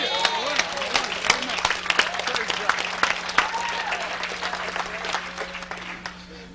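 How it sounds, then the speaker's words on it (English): A church congregation breaks into a burst of scattered clapping that keeps going for several seconds over a low steady hum, fading toward the end. "Give God a big clap offering right there."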